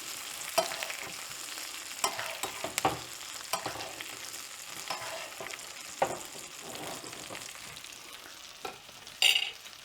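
A NY strip steak sizzles in a cast iron skillet as it is basted with garlic thyme butter, with soft continuous frying, spoon scrapes and occasional sharp clicks and spatters.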